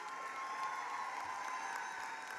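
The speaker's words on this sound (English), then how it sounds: "Let's keep it going," Sustained applause rolls on through a graduation ceremony audience, a thick, even wash of many hands clapping with a faint hint of cheering.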